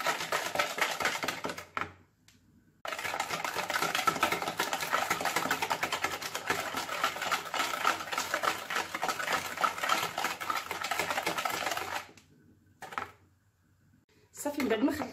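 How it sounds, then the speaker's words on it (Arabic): Electric hand mixer beating eggs, sugar and oil for a carrot and bran cake, a steady whirring buzz running for most of the stretch with two short pauses, fairly loud and close. "وغادي نطربوهم مزيان حتى ينسجموا لينا المكونات مع بعضياتهم مزيان، ونحسوا بان السكر تخلط لينا وداب وسط هذا البيض والزيت"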